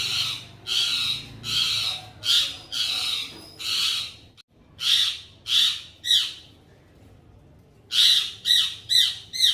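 Parrot chicks squawking loudly while being shifted between cages, a run of harsh, repeated calls in bursts with a brief pause in the middle, close to the microphone.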